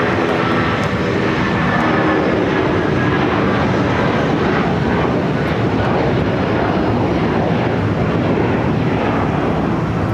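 A United Boeing 757-300 jet airliner at LAX, bound for Chicago as flight 1069, gives a loud, continuous engine roar with rumbling texture and a few faint ticks early on.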